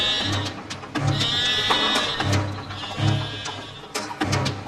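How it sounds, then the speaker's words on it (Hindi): A goat bleats repeatedly at night in a Hindi cartoon fairy tale, loud, close, wavering calls in several bursts with short gaps between them, no speech over them. "लगता है कोई बकरी फंस गई है।"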